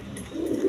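Pigeons coo on a farm, a brief low throaty coo rising near the end of a short stretch of quiet background, with no voices.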